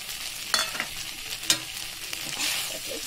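Egg chili frying in a pan, with a soft continuous sizzle broken by a few sharp clinks and scrapes of a spoon stirring, close and fairly quiet with no talking.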